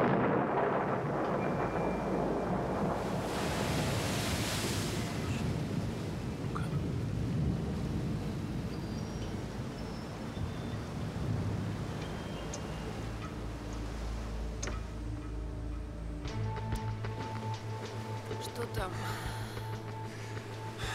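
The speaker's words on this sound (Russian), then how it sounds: "Гроза-то как разыгралась." A thunderstorm with rumbling thunder and wind, a heavy continuous roar with a loud thunder surge early on, steady throughout while people talk over it.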